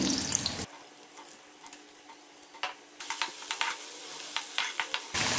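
Crackling sizzle of ginger and garlic frying in a hot pan for mutton pulao, with intermittent stirring scrapes and clinks growing busier toward the end.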